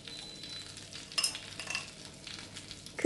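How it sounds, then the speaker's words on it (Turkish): Butter heats in a small sauce pan with a low, quiet sizzle that swells into brief louder bursts of crackling partway through, with no voices. "1 yemek kaşığı tereyağımızı sos tavamızı alıp iyice kızdıralım"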